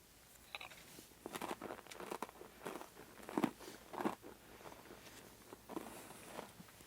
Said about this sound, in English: Actually, I know what I'm chewing.